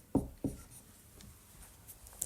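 Chalk or marker writing a calculus expression on a board, two sharp taps early on followed by quieter scratchy strokes, close and without any voices.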